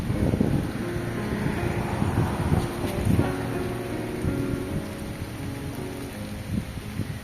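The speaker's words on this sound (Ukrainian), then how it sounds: "Дощик пішов. Дощик, дощик." Steady rain patters close by outdoors among rose bushes in Mykolaiv, Ukraine, with gusty wind buffeting the microphone, a continuous wash of noise with occasional louder thumps.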